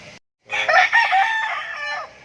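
A rooster crows loudly and close by, a long drawn-out call following a brief pause, with hens clucking faintly in the background.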